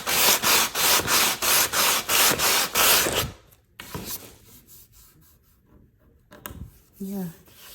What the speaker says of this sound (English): I think I'm gonna go in with the sandpaper.